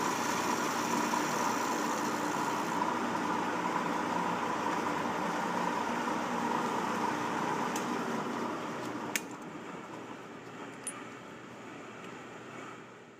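A milling machine's end mill finishes cutting a metal tube and is fed away from the workpiece, giving a steady close machining whir that eases and quiets near the end, with a couple of sharp ticks.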